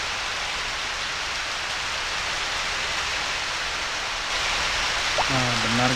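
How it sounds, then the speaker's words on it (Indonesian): Steady, loud rain from Harvest Moon: Back to Nature on PlayStation 1, a continuous dense hiss throughout, with a short tonal game chime at the very end. "Nah, benar guys, suara hujan."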